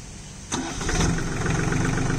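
A Swaraj Target 630 mini tractor engine cranks and catches about halfway through, then settles into a steady, loud idle close by beside a riverside field, with no talking.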